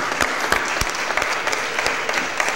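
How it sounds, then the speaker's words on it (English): Applause from the audience at a city board of aldermen meeting, a steady wash of many hands clapping with sharp individual claps standing out, continuous throughout and fairly close. "Let's give him one more round of applause."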